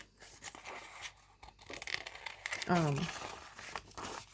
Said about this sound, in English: I don't usually use fabric scissors on my paper.